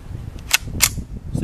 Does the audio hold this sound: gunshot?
yes